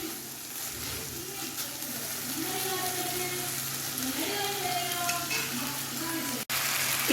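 Rice roasts in a pan for a no-onion, no-garlic coconut milk pulao, giving a soft, steady sizzle with occasional stirring, fairly quiet and close with a brief clatter near the end.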